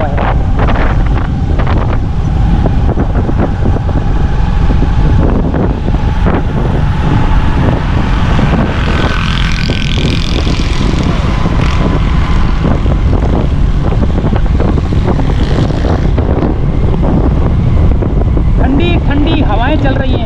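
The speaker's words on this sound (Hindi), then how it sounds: "ज़बरदस्त किस्म की हवाएं चल रही हैं।" Strong wind roars steadily across a flooded street in Karachi after heavy rain, a constant loud rush buffeting the microphone throughout, with someone talking over it.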